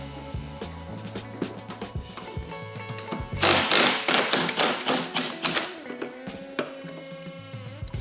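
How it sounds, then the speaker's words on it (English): Bolts come out of a Polaris snowmobile skid as a power tool rattles in a quick series of loud bursts amid clinks and workshop noise, with tonal whine before and after. "So we're going to go ahead and remove these bolts."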